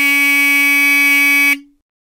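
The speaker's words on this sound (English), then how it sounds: "Tone 4 is an electromechanical buzzer." A Hootronic electromechanical buzzer sounds a loud, steady alarm tone that holds for about one and a half seconds and then cuts off abruptly, with no other sound around it.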